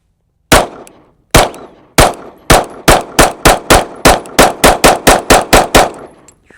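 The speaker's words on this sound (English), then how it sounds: "let's shoot some 115 grain" Pistol fire with 115 grain rounds from an FDEZ 3.0 fitted with an Icarus 311 grip module: two spaced single shots, then a steady rapid string of about fourteen loud, sharp reports close by.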